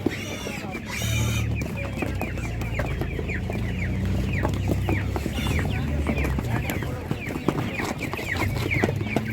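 Hens of Master Grey and Spanish breeds cluck steadily at a Ukrainian village livestock market, with overlapping calls from many birds close by and a faint murmur of people in the background.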